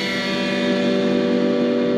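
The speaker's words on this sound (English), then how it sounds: "Distortion." Electric guitar played through heavy distortion: one sustained, buzzy, dense chord that rings steadily and loudly for about two seconds with no voices.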